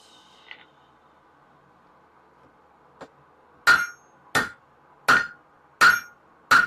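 Power hammer drop forging hot steel: five heavy, evenly spaced metallic blows ring out close and loud after a quiet start with one light tap.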